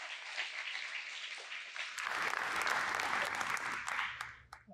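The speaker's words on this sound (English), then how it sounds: "So please, a round of applause for them." Audience applause at an event's closing remarks, a dense wash of many hands clapping that swells and holds for a few seconds before fading, after a stretch of broad crowd noise.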